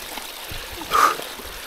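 Small mountain creek trickling and gurgling near Vihren peak, a soft continuous water flow with a brief brighter splash in the middle.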